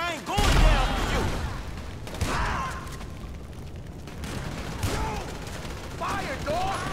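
Gunfire in a shootout, scattered loud bursts and pops mixed with shouting voices and echoing chaos.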